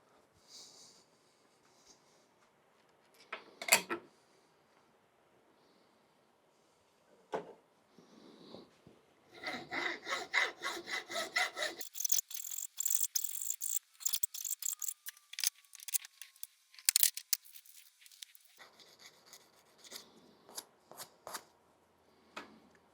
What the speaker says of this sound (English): So we'll file that down and then try the fit again.